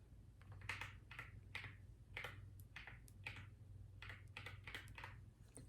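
Close, soft bursts of keystrokes on a computer keyboard, entering answers during a soft-spoken ASMR exam roleplay, come in short irregular runs separated by brief gaps over a faint low background hum.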